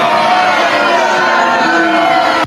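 A recorded crowd cheers and whoops loudly and continuously, a dense roar of many voices holding steady before cutting off abruptly at the end.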